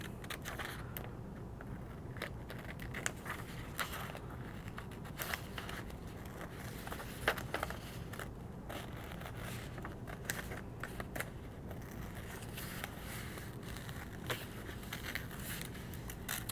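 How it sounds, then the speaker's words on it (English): Safety scissors snip around a colored paper figure, a long run of soft, irregular close crunching cuts and paper rustles at a quiet level, with no voices. "So now I'm going to go ahead and cut him out."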